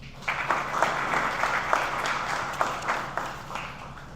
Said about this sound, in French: Il s'amène sous l'éclat de vos acclamations